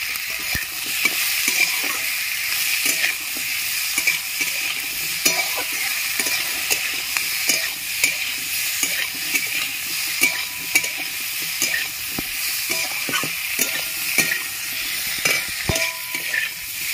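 Torn green chillies and salt frying in hot oil in a pan, a loud, continuous crackling sizzle with rapid spitting pops and occasional stirring scrapes, no voices.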